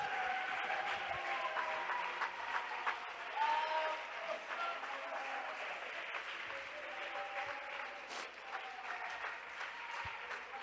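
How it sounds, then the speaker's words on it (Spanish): Steady applause from a church congregation, many hands clapping together in a continuous, moderately faint wash that lasts for about ten seconds. "Yo creo que hay aplauso para él en esta tarde."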